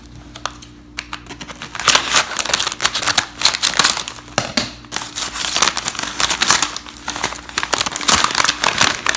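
Packaging around a cactus cutting is pulled and unwrapped, giving close, busy crinkling and rustling in irregular bursts, loud and with no talking.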